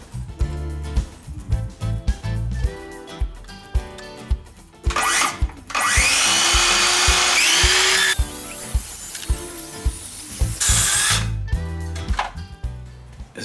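Circular saw cutting an angled line across a clamped table board: repeated knocks and tool handling, then a loud sustained whine of the blade through the wood lasting several seconds, close by.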